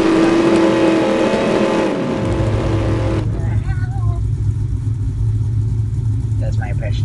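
A human voice imitates a drag racing car engine with a buzzing, rising drone for about two seconds. Quieter background noise from a drag racing game follows.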